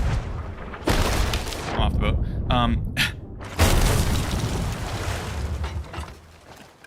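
Ship cannons fire in the pirate video game Sea of Thieves: two heavy, loud booms land a few seconds apart with rumbling tails, and a player speaks briefly between them.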